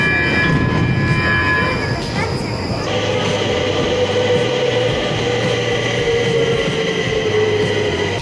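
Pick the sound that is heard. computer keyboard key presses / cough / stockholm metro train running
stockholm metro train running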